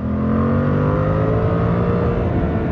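A 2024 Suzuki GSX 8R motorcycle pulls hard in third gear, its engine note loud and close, rising steadily in a continuous throaty rev throughout.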